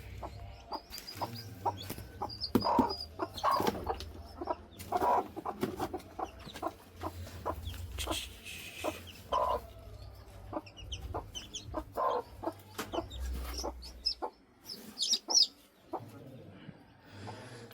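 A hen clucking close by in a coop, with repeated short clucks and squawks at an uneven rhythm over a low background rumble, and no talk.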